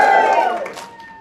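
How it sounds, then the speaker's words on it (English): Crowd at a Canine Companions graduation ceremony lets out a short, loud cheer on cue, the shouts and whoops fading quickly within about a second. "on the count of 3, I want to hear a very big, loud cheer"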